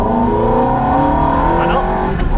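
A Ferrari 430 accelerates hard out of a corner on a race track, its engine note climbing steadily in a loud, close in-car roar with talk over it.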